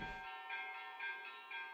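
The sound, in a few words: church bells ringing in the morning in Albania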